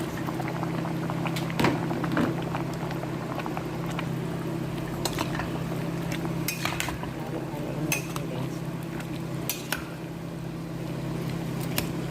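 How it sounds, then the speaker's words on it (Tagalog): A pot of vegetables with okra simmers with a low, steady bubbling hum, while metal utensils clink and tap against the pot now and then. "kumukulo-kulo na"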